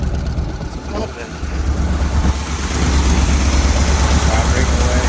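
A 1970 Chevrolet C20 truck engine runs at its first start in twenty years, a loud rough low rumble that builds and holds steady, with voices faintly in the background.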